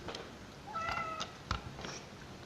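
A cat gives a short, faint meow at close range, one drawn-out call followed by a couple of quieter chirps against a soft background hiss.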